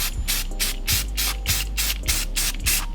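Aerosol can spraying red high-temperature caliper paint onto a ground-down car brake part, close up, in five or six short rhythmic hissing bursts separated by brief pauses.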